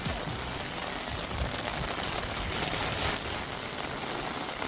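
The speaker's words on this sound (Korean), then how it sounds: "비가 이렇게 막 치면서" Heavy rain beats down steadily under a heavy rain advisory on Bogildo, a dense, continuous wash of drops hitting surfaces close by, with no one speaking.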